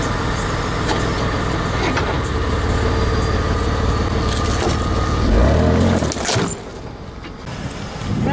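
A Ford Explorer Sport Trac rolls over an old plastic thermostat housing, a loud, close engine rumble with a crunching pass that ends abruptly and leaves quieter background noise.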